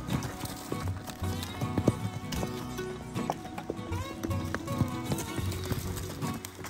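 A horse moves on a Brazilian farm, its hooves clip-clopping in a steady, fairly close rhythm amid busy background noise and occasional other sounds.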